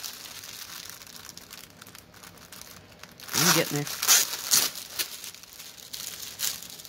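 A plastic bag crinkles and rustles loudly in several bursts, with a person speaking briefly nearby.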